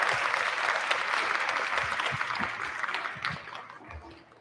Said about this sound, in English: let's give a round of applause for Dr. Sinha.